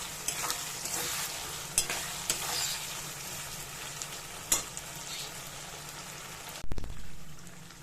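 Ground spices fry and are stirred in a pan for a mocha chingri dish: a continuous close sizzle broken by scraping stirs, then a sharp clatter near the end.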